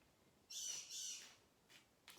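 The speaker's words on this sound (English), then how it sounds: "I got the bird squawking in the other room and the cat meowing in the living room." A pet bird squawks from another room in a home, two short harsh bursts followed by fainter calls, quiet and somewhat distant with no talk.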